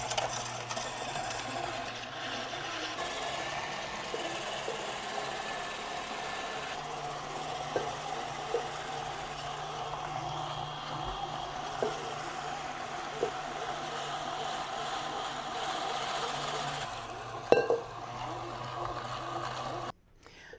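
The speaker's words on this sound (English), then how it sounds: "I'm going to use my attachment for my KitchenAid mixer. Next step is shred your potatoes and onions." A KitchenAid mixer's shredding attachment grinds potatoes and onions for latkes, a steady motor whir with a continuous churning rasp, close and fairly loud, with a few short knocks along the way.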